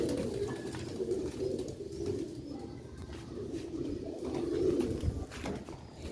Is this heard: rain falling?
no